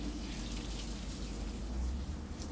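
Warm water runs steadily at a dog wash station, rinsing shampoo out of a dog's coat, a continuous close splashing gush with no talk.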